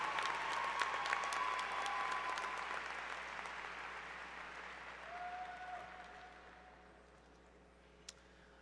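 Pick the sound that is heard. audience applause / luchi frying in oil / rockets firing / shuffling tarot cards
audience applause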